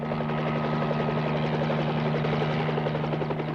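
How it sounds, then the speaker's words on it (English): Police helicopter patrolling a desert border, its rotor and engine droning steadily and loudly throughout with a constant low hum and rhythmic blade chop, no voices. "Helicopters keep watch along the border."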